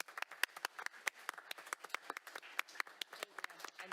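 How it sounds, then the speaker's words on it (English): A small audience at a school district board meeting claps: scattered, uneven hand claps at fairly low volume, sparse rather than a dense ovation. "So big round of applause to everybody in this room."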